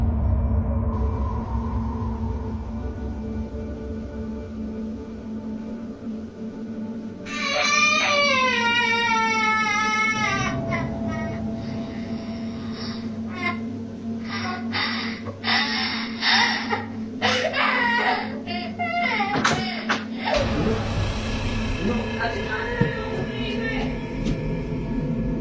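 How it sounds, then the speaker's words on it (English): A child cries in a living room, a wavering sob rising partway through and repeating in short bursts over a steady low room hum, with faint shuffling and clicks around it. "hears a child crying in their living room and thinks that it's his son."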